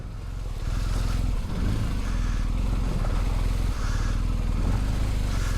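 A BMW R1250 GSA adventure motorcycle rides a trail with a loud, steady engine drone close to the microphone. It keeps a constant rumble with slight changes in throttle.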